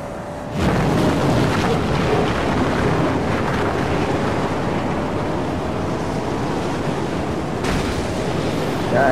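A raging storm in the Mad Max video game roars as a dense, continuous wall of wind and rumbling noise, loud and unbroken for several seconds after a sudden start, with no voices over it.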